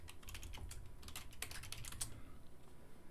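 Quiet, rapid typing on a computer keyboard, a steady patter of light key clicks close by with no voices.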